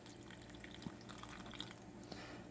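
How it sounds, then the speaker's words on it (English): Cold water trickles and drips into a bowl while butter is churned by hand, faint, close splashes and small drops over a quiet background. "I'm just going to add some more cold water."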